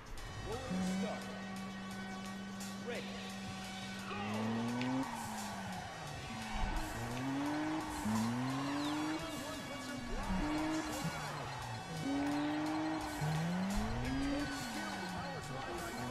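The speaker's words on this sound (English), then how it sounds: "my tires were spinning" A car in the racing video game Juiced 2 revs with rising and falling engine pitch while its tyres spin and squeal, loud and close, with a voice talking over it at times.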